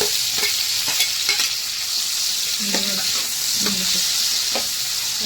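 Tomatoes going into a pan of frying onions, a loud, close, steady sizzle punctuated by several utensil taps and clinks against the pan, with no speech over it.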